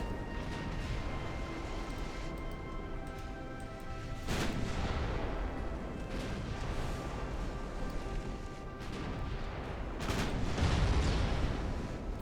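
Naval artillery fire in the warship battle game Ultimate Admiral Dreadnoughts, with heavy booming shell blasts over a constant low rumble of battle, two big impacts standing out.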